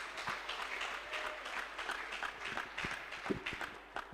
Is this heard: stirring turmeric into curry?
no